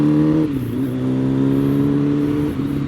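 A motorcycle engine warms up with a steady, close hum whose pitch shifts slightly as the throttle is eased and released, continuous and fairly loud with no talking.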